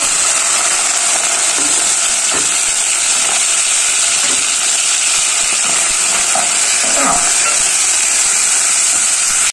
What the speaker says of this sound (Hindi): एक 2 मिनट तक बस हमने यहाँ पे कीमे को घी में भून लेना है।